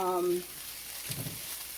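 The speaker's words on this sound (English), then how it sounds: "So right now I'm kind of just frying up these vegetables." Frozen mixed vegetables, carrots and green beans among them, fry in a pan for shrimp fried rice, a soft steady sizzle after a brief tone at the start.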